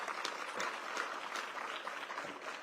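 Applause at an outdoor groundbreaking ceremony for the Long Bridge Rail Project, a steady wash of many hands clapping from the audience, moderately loud and unbroken, with no voices over it.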